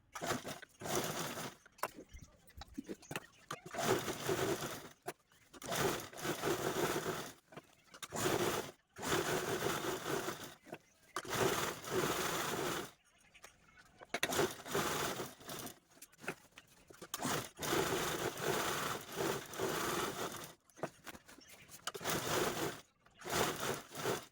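A sewing machine quilts diagonal stitches through layered fabric made of a lining, a gunny-sack middle and a main fabric on top. It runs in repeated bursts of steady whirring, separated by short pauses, and sounds close and moderately loud.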